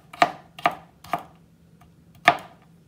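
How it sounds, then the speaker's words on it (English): Four crisp knife chops on a cutting board as carrots and mushrooms are cut by hand, three evenly spaced then a pause before the last, close and clear in a quiet kitchen. "Now that we're done chopping up our carrots and mushrooms"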